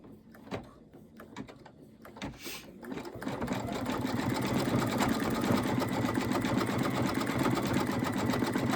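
An embroidery sewing machine stitches out an Easter bunny appliqué design, its needle starting with a few uneven bursts before settling into a steady, fast, continuous rattling hum that runs close and loud to the end.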